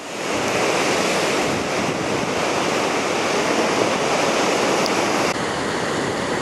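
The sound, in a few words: waves on rocky shore of Palolem beach, Goa, India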